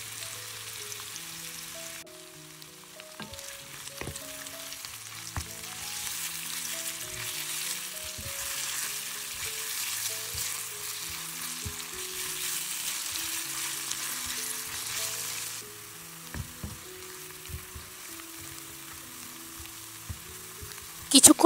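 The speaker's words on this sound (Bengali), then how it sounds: "এবার আমি দিয়ে দিব 1 কাপ পরিমাণ পেঁয়াজ কুচি।" Chopped onions frying in hot oil with cardamom, cloves and cinnamon for an egg korma, a steady close sizzle with occasional stirring scrapes and clinks, no talking.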